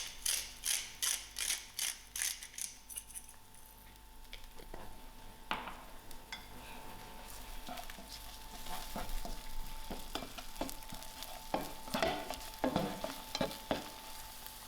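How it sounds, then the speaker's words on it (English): Egg fried rice is stirred in a sizzling frying pan, with a quick run of scraping strokes at the start, then steady frying and irregular clinks and scrapes of the utensil, close up and with no speech. "I'm just going to drop in my rice. I will keep stirring this to avoid the rice from sticking."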